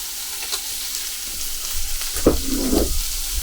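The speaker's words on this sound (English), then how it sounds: "the bacon has been in there for a couple of minutes now. So now, and it's released some more of its own fat. So we're going to go in with the onions" Onions and carrots fry in rendered bacon fat in a pot of pasta e fagioli soup. A constant close sizzle is broken by a couple of soft thumps and stirring bursts as vegetables drop in.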